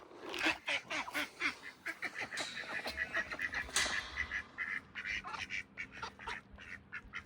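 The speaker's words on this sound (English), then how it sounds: "All right, the duck is hungry." A hungry farmyard duck quacks repeatedly at feeding time among turkeys, its calls mixed with other fowl noises and brief speech in an outdoor pen.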